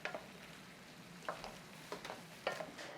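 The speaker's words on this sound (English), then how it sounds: "All you do now is stir it to coat" Chicken broccoli pasta being stirred to coat it in lemon butter sauce, with soft wet scraping and squelching sounds over a continuous gentle sizzle and a few louder utensil knocks against the pan.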